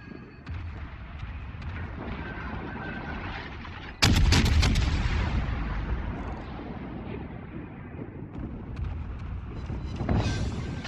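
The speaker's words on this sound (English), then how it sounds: "that battleship back there is shooting at me" Battleship guns fire in the World of Warships naval game, a loud booming salvo that bursts out mid-clip and rolls away over a constant low engine and sea rumble, with further softer shots near the end.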